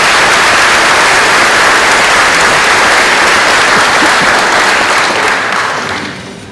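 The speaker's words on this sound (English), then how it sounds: "would you please give them a round of applause?" Sustained, dense applause from an audience at a middle school promotion ceremony, loud and steady before tapering off in the final second.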